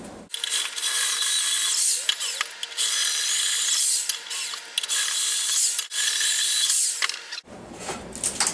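Power drill boring a hole with a 3/8 drill bit during a homemade motorbike build, a loud, continuous grinding whine with brief pauses near the end, close and without talk.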